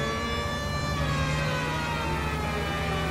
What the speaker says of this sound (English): So we will go ahead and turn on the siren